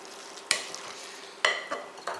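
A zucchini casserole mixture being stirred in a pan, with a few distinct scraping strokes of a utensil against the pan over a low, steady background hiss.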